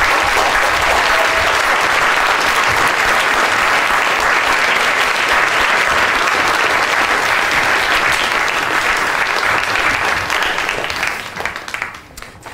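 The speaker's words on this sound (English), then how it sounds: "give a big round of applause for everyone" An audience applauds at a Royal Institution science lecture. The clapping is loud and sustained for about eleven seconds, then thins out and fades near the end.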